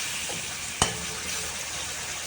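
Citron pieces sauté in a pan for narthangai gojju, giving a steady close sizzle with one brief sharp tap partway through, and no voices.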